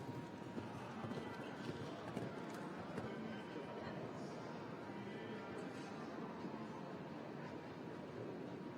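Rhythmic horse hooves thud and clip-clop across the arena at an international show jumping competition, steady and fairly close under a commentator's talk.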